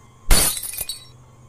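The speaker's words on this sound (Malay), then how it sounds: "Bunyi seperti kaca pecah lah." A mirror falls and its glass shatters in one sudden loud crash, followed by a brief bright tinkle of shards that quickly fades, with no voices.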